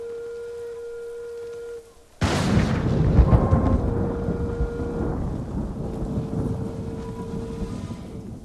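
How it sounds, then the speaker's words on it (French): Thunderstorm called up by a storm flute melody in Ghost of Tsushima: after a short flute tone, a sudden loud thunderclap breaks in, then a long rolling rumble that slowly fades as faint flute notes carry on above it. "Apparemment, ça permet de faire un ciel, un ciel d'éclairs sans qu'il pleuve."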